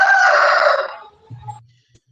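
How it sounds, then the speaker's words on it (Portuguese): A rooster crows loudly and close by in one long call that tapers off, followed by a faint low sound and quiet. "Esse galo foi para acordar o pessoal."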